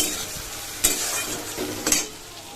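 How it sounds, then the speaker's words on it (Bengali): Onions fry in a pan with a steady close sizzle, broken by two sharp scraping stirs about a second apart, no talking. "পেঁয়াজ দিয়ে দিয়েছি পেঁয়াজটা এখন ভাজা হোক"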